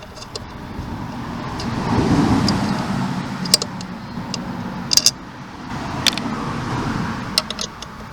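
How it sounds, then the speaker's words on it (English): Road traffic passing on a quiet rural road near a workshop, with a vehicle swelling up and fading away, followed by faint clicks and metallic clinks close by. "just wait for the passing traffic."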